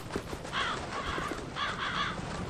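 A crow in the video game Dark Souls 3 gives two separate bursts of harsh, close cawing, a few rapid calls each, over quiet background ambience.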